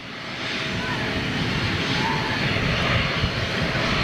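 Airbus A320neo airliner of EasyJet with LEAP-1A engines, giving a loud, steady broadband engine roar that holds continuously throughout and is close by, with no speech over it.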